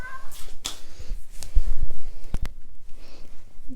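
A cat meows in a few short, close calls scattered across a quiet indoor room, with faint shuffling and handling noises between them.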